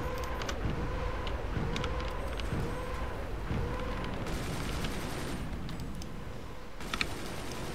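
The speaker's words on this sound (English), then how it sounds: "They're firing again." Weapons firing in the video game Forts: a dense, continuous rumble of repeated bursts and thuds, with periodic tonal whines and sharper cracks near the end, all fairly quiet and blended into a steady battle din.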